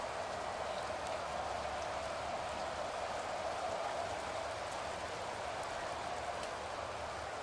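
Steady rain falls during an outdoor football game between the Anchorage Snow Devils and New York Mafia, a faint, continuous hiss of drops with occasional soft pattering, unbroken throughout.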